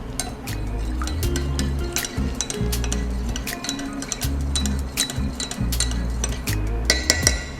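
Spoon clinking against a glass while a cold brew latte mix of milk and syrup is stirred, with repeated bright taps and scrapes over a steady low background hum, close and fairly loud.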